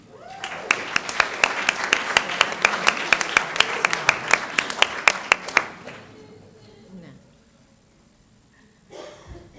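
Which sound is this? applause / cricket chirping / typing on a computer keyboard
applause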